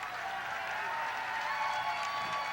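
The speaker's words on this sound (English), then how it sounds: "a bit of cheering from the Lancaster crowd that's here" Crowd noise at a Lancaster high school basketball game after a foul, a steady wash of cheering and applause from the stands, moderately loud and continuous.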